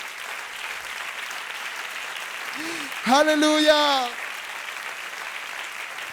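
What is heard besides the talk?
church congregation applauding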